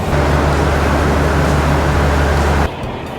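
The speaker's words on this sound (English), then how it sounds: "It was a bit loud over by the train" Loud, dense train noise at a Bangkok railway station: a broad steady roar with a low droning hum, close by, which cuts off abruptly near the end to a quieter background.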